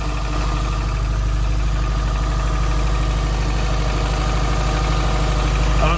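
A car engine idles close by with a loud, continuous low rumble and a faint irregular knocking pulse running through it, steady for the whole stretch.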